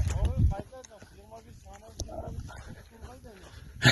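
A dog out on a long open route gives a string of short barks and yips at close range, while someone talks over and between them.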